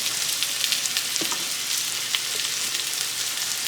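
Chicken frying in a pan with paprika and ketchup for coconut cream chicken, a steady loud sizzle filling the whole stretch with faint scraping from stirring underneath.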